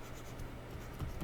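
Marker or chalk scratching across a board during a geometry lesson, a steady soft scrawl running throughout with slightly firmer strokes near the end, close and alone.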